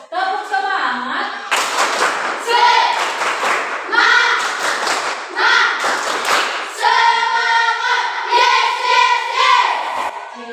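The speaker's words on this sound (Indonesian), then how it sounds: "Tepuk semangat." Children in a classroom doing a rhythmic spirit clap, patterned bursts of clapping mixed with loud chanting voices, near and energetic throughout.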